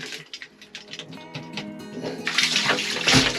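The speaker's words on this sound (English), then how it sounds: "once we take this out, a lot of water is gonna come in" Seawater gushes into the hull of a sailing catamaran through an opening left by a removed sensor, starting as uneven splashes and building into a loud, steady rushing pour close by.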